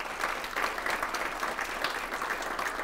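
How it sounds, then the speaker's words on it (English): An audience applauds steadily, a dense patter of clapping hands filling the room without pause. "Let's give those folks a big round of applause."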